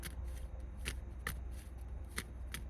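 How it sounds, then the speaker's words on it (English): A deck of tarot cards is shuffled by hand close up, giving a run of crisp, quiet riffles and flicks in an irregular rhythm, with no voices. "Look, as I'm shuffling the cards,"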